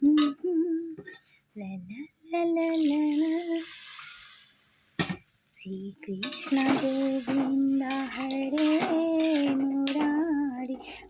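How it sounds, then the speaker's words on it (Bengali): A wok wobbles on the stove burner while fish curry cooks, producing repeated metallic clatters and rattles in uneven bursts, close and fairly loud, with short quiet gaps between. "কড়াইটা আমার নড়ছে কড়াই নড়া কিন্তু ঠিক না চুলার মধ্যে বসিয়ে তো আমার কড়াইটা নড়ছে"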